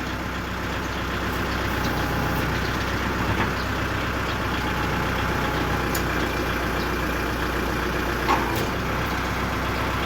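A diesel tractor engine, a Kubota M6040, runs steadily at normal revs, a continuous low rumble close by with no revving, lasting the whole stretch.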